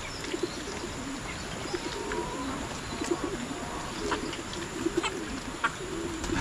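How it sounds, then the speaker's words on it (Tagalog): Pigeons cooing on a farm beside a waterfall, low repeated coos in a loose rhythm with a few faint chirps, set against a steady wash of rushing water. "Yung kalapate oh."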